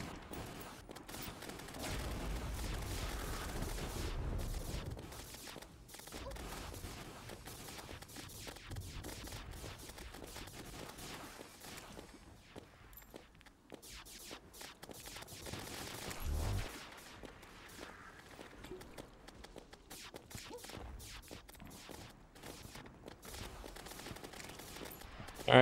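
Rapid shots fired by a boss fight in Terraria Calamity Master Mode, Cryogen or Aquatic Scourge, form a dense, continuous barrage of game gunfire-like bursts. It stays loud through most of the stretch, with heavier booming hits near the start and in the middle.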